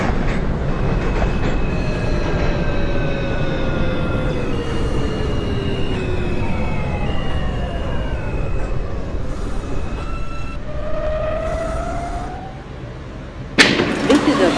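An R160 subway car on the L line in the OpenBVE train simulator hums as it runs, with rising and falling motor whine tones and a steady rumble. A sharp clunk comes near the end.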